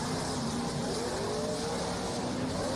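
An Ultra4 off-road race car runs on a flat left front tyre at a race in Jay, Oklahoma, its engine a loud, steady, unbroken drone close by.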